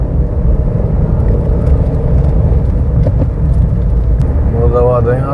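A car drives along a fog-covered highway between Rampur and Moradabad, giving a steady close road rumble and engine hum throughout, with a brief tonal whine near the end.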